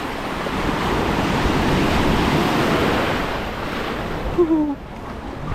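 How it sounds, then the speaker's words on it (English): Ocean waves break on Waikiki Beach, Oahu, in a loud, continuous surging roar with wind buffeting the microphone, easing toward the end as a brief voice-like sound cuts in. "These waves are so powerful as well."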